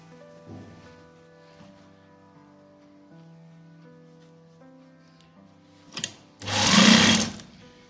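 A sewing machine stitching a langot runs in a steady, close mechanical whir with faint background noise, then a brief burst near the end followed by a louder, noisy stretch of fast running.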